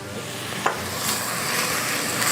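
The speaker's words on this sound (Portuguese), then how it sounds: "A gente vai começar a acrescentar o nosso bacon, para ele acrescentar sabor, para ele já começar a soltar a gordura" Bacon fries in a pan with peppers and onion, giving a steady close sizzle with light stirring scrapes throughout.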